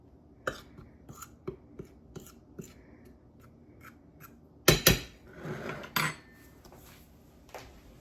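Dry seasoning being stirred in a bowl, heard as a series of light clinks and scrapes of a utensil against the dish, sparse at first and then a louder cluster of rattling scrapes near the end.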